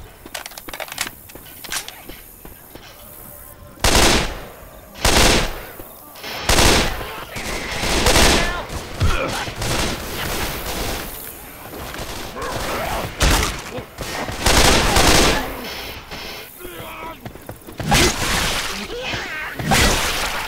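Bursts of rapid gunfire in Left 4 Dead, loud volleys coming in repeated clusters with quieter stretches between them.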